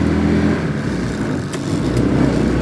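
Muravei motor scooter fitted with a 157QMJ 150cc scooter engine and reduction gearing, running steadily close by with a continuous loud drone and a brief dip as the throttle eases off to change gear.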